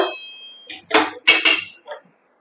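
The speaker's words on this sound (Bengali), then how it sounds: "কড়াইয়ের গায়ে একটু বুলিয়ে নিচ্ছি তেলটা" A metal spoon or spatula scraping and clinking against an oiled wok as the oil is spread around its sides, several short, sharp metallic strokes close up in an otherwise quiet kitchen.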